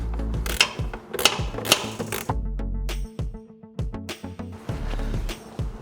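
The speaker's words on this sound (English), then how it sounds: "And then I got a ratchet here." A hand ratchet tightens a 10 mm bolt on the front bumper of a 2017–2018 Subaru, giving loud, close clicking bursts in quick repeated strokes with short gaps and no talking.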